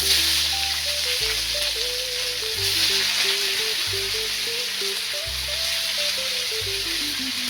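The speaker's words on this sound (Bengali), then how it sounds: "এখন আমি ওর মধ্যে পেঁয়াজগুলো ভেজে নেব" Onions fry in a pan for Bengali egg pulao, a continuous dense sizzle heard close and steady, with a melodic music track playing underneath the whole time.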